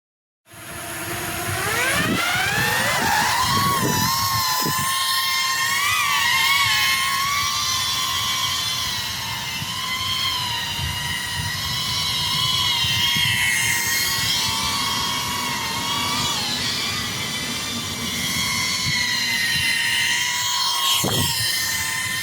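An AirBlade Honeypot cinewhoop FPV drone flies close by with a loud, steady high-pitched whine of small propellers, its pitch rising and falling as the throttle shifts, continuous with no talking.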